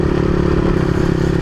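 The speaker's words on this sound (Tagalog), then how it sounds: "kapag binirit ko yung silinyador, mga ilang segundo lang namamatay na yung makina" Motorcycle engine with a misfiring carburetor running loud and close, a steady rough throbbing drone with a rattly edge and no pause.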